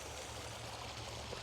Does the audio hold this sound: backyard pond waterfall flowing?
yes